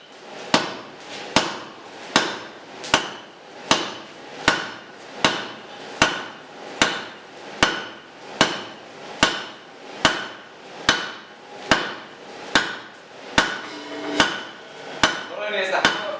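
A forging hammer with a light, relaxed grip strikes hot metal at the anvil, about twenty sharp, ringing blows in a steady, even rhythm, close and alone with no talk.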